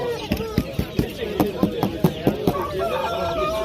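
Chickens and roosters clucking in a repeated run of sharp calls at a poultry market, close and loud, with market chatter and voices underneath.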